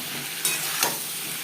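Potatoes tossed with salt and turmeric in a pan, a steady close sizzle with two quick scraping stirs standing out over the frying hiss.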